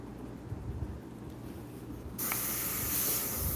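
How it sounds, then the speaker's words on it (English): An airbrush sprays paint for a rose painting, a steady soft hiss that jumps to a louder, brighter spray partway through, close and alone. "I forgot to clean the airbrush out, so I just wasted that color."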